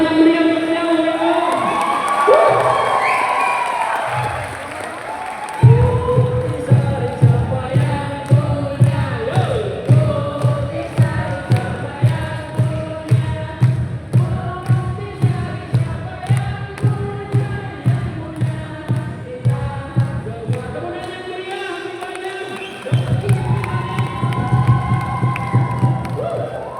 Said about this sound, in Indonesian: Tepuk tangan yang meriah untuk beliau.